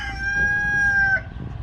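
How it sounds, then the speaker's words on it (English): A rooster crows once in Nepal, a long, bright, drawn-out call that cuts off abruptly over a low rumbling background. "Clearly there's a rooster."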